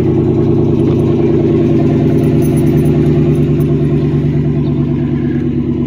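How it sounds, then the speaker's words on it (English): A 2019 GMC Sierra Denali fitted with a nearly straight-piped Corsa exhaust, rumbling loud and close with a steady deep idle and light throttle, no clear rev peaks standing out. "Gonna give it a little throttle."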